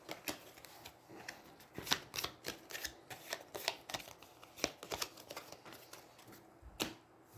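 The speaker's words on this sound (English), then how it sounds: "shuffle it back into the deck" Cards from the Aeons End deck-building game are shuffled back into the deck, making a close series of crisp riffling and snapping bursts in an irregular rhythm with no talking.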